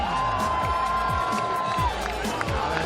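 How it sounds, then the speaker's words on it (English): A large crowd at a STIHL Timbersports Australian Trophy and Women's Australian Championship event cheers and claps loudly, a continuous roar with a whistle rising over it, while an announcer's voice carries through. "give us the biggest cheer of your life right now"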